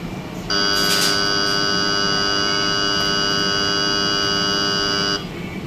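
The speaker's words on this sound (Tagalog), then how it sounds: "sakto nag-buzzer na tong ating rational oven" A Rational combi oven's loud, steady electronic buzzer drones for about five seconds at a constant pitch, then cuts off abruptly.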